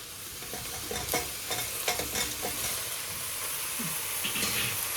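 Cleaned goat trotters (paya) fry in a pan for Sindhi-style paya soup, giving a loud continuous sizzle with periodic stirring clatters and scrapes, no voices over it.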